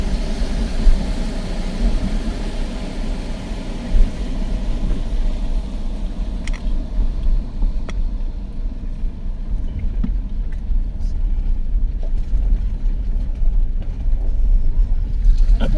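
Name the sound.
car driving through a water crossing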